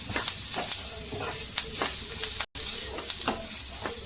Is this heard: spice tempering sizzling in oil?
yes